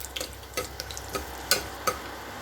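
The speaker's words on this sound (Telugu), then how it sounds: "ఇప్పుడు పోపు దినుసులు ఈ ఎండుమిర్చి బాగా ఫ్రై అవ్వాలి" Dried red chillies crackle softly as they fry in oil, with scattered light pops and faint stirring scrapes.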